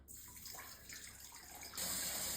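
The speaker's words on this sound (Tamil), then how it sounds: "Next 4 cups warm water add பண்ண போகிறோம்." Four cups of warm water pour into a bowl for French bread dough, a soft steady splashing flow that grows louder and fuller near the end.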